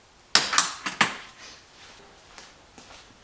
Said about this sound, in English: Let's see how well just normal scissors work.